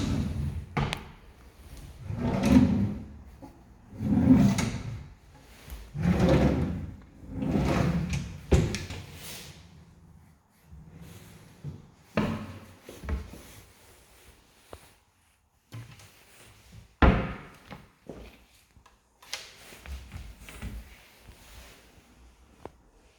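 Drawers in a house being opened and closed during a property inventory, a series of loud wooden slides and thuds, several in quick succession early on, then sparser, sharper knocks with quiet gaps between.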